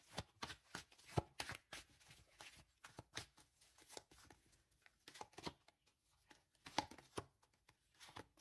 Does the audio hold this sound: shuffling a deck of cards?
yes